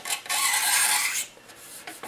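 A mold line being scraped off a plastic part of a Tamiya 1/14 Grand Hauler semi truck model kit gives close, harsh rasping strokes, one long scrape followed by shorter, lighter passes, with no talking.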